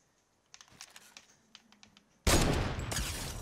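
Gunfire in Fortnite Season 8, starting as scattered soft clicks and taps and then breaking into a sudden loud, sustained burst of rapid shots that fills the final second.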